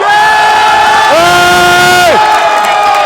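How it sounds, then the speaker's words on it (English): A large crowd at the Microsoft Excel World Championship grand final erupts in loud, sustained cheering and whooping, continuous and close throughout. "Look at the crowd here! Exploding! Exploding!"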